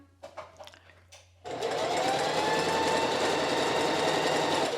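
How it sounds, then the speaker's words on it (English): A sewing machine starts up after a few soft handling clicks and runs steadily, loud and close, as it stitches along the edge of a fabric corner. "Put it down and continue sewing."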